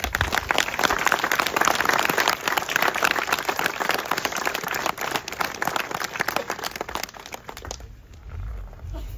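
Outdoor crowd applause at a D-Day 80th anniversary commemoration ceremony at a memorial site, steady dense clapping for about eight seconds before it thins and fades out.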